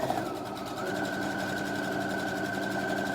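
A sewing machine runs steadily while stitching a straight seam along a fabric tube for a hair scrunchie, giving a continuous close hum with a sustained whirring tone throughout.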